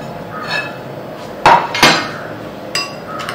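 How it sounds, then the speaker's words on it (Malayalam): A spoon stirs an oats mixture in a bowl, giving a few sharp, separate clinks against the bowl over a quiet background. "നന്നായിട്ട് മിക്സ് ചെയ്തെടുക്കുക."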